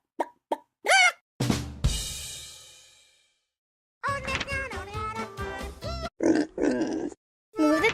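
Cartoon pig grunts and oinks from an animal app game for children, a few short snorts followed by a longer sliding squeal and a stretch of bouncy game music with playful effects.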